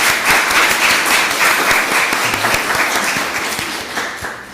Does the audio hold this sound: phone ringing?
no